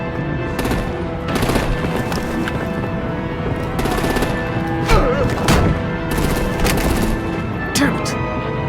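Artillery gunfire in the Batman: The Enemy Within game, with repeated loud bursts of rapid automatic fire and blasts over a dense, steady battle din, with voices mixed in.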